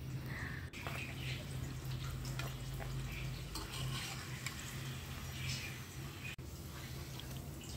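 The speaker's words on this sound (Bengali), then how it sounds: "তো আমি লুচিগুলো ভেজে নিচ্ছি" Luchi flatbread frying in hot oil in a home kitchen gives a soft, steady sizzle with occasional stirring scrapes and light clinks, all fairly quiet over a low background hum.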